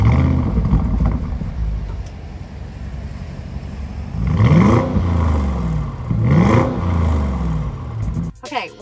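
A 2022 Audi SQ7 SUV with quad exhaust idles, then revs twice in quick rising bursts, loud and close, before cutting off with a brief mechanical rattle.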